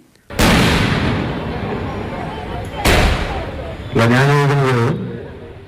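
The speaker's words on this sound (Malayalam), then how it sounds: "പ്രസംഗം കൊട്ടിക്കയറുന്നതിനിടെ വേദിക്ക് പിറകിൽ പടക്കത്തിനാരോ തിരികൊളുത്തി" Two long crackling bursts of firecrackers go off close and loud behind a stage during an election campaign speech in Thrissur, followed by a shouted voice amid the noise.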